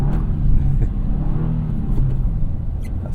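A Subaru WRX TR on Bridgestone Potenza all-season tires is driven hard through snow, its engine revving in a loud, close, throbbing rumble from the cabin with swelling pitch over the short burst.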